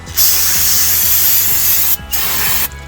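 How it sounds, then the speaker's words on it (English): Brake cleaner sprays from an aerosol can onto a vehicle's greasy wheel bearing in close, loud hissing bursts: one long blast, a short break, a second blast, then another cut-off near the end. "Brake cleaner. So what I'm gonna do is I'm gonna hit this from the back. I'm gonna hit it from the front right here."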